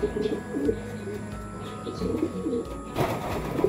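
Racing pigeons coo softly in a loft in low, repeated burbling calls close by, with light rustling and a brief bump near the end.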